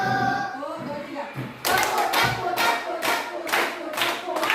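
Children clapping along in a classroom clapping game led by a teacher, with bursts of hand claps in a rough rhythm over steady chatter and voices.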